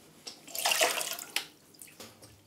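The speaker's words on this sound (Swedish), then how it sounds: "Vattnet däremot, det kan jag hälla ut." Water is poured out from the basin of a clogged shower floor drain, a short splashing gush that swells, breaks off and trickles again, heard close with no talking.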